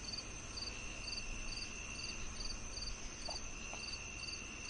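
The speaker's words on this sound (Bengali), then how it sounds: "দূরে ঝিঝি পোকার ডাক ভেসে আসছে।" Crickets chirp steadily in the distance on a night by a riverbank, a regular pulsing trill repeating about every half second over a soft, constant background hiss.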